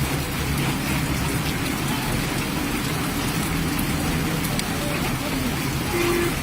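Heavy rain falls steadily over a football ground during a tournament match, a thick, continuous patter close by, with a voice talking over it.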